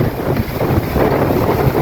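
Strong wind blows steadily and loudly, buffeting outdoors with a continuous rushing roar and no voices.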